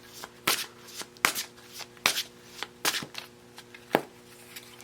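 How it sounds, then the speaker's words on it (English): Tarot cards being shuffled by hand, a run of crisp riffling flutters and soft slaps in uneven bursts, close and clear, with no talking. "Let's shuffle a little more, and I'm going to pull more of your cards."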